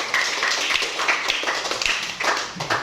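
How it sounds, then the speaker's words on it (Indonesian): A class of sixth-grade primary schoolchildren clapping for themselves in a classroom, a brief burst of lively, uneven applause with many overlapping hand claps. "Tepuk tangan dulu untuk diri sendiri."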